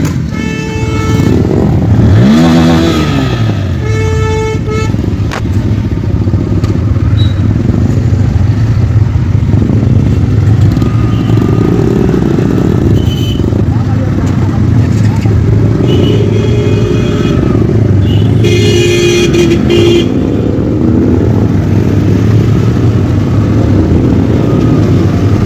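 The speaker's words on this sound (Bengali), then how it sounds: "আমাদের বাইক রাইড স্টার্ট হয়ে গেছে, আর আমরা এক লাইন ধরে নিজেদের লাইন আপে যাচ্ছি।" An Independence Day group motorcycle ride rolls along a road in a single line, with loud continuous engine drone, occasional revving and horn toots, close and persistent throughout.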